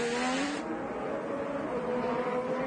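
IndyCar race cars exiting the pits during the 2012 race at Sonoma, a loud continuous engine drone with a high whine that sustains throughout, no gaps or speech.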